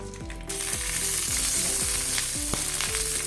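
Stuffed capsicums go into hot oil in a pan and start frying, a loud steady sizzle that jumps up suddenly and keeps crackling, with faint clinks underneath.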